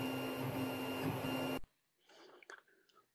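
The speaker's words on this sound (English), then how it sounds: "it's just printing out the control arms" A 3D printer prints control arms for a Multiplex Fun Cub flap control horn. Its steady, dense mechanical whir runs loudly, then cuts off abruptly and leaves a few faint clicks and taps.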